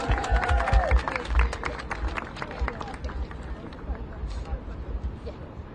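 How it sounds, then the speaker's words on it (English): Applause and crowd noise from an audience at a Chicago officials' press event, loud and dense at the start with clapping and murmuring that thins over several seconds as voices continue underneath. "Give yourselves a round of applause."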